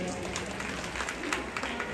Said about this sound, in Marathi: सुजाता वहिनीसाठी जरा जोरात टाळ्या वाजवा